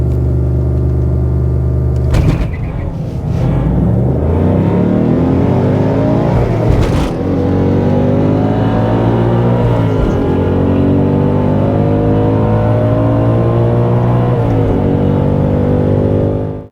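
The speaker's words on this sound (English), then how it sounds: "Time to put it in drag mode, turn on the launch control, pin the pedals and have the first run in the Mark 1." A Mark 1 car launches in drag mode with launch control, the engine holding a loud droning rev before surging and climbing through the gears, with a few sharp pops and shift breaks, steady and close throughout.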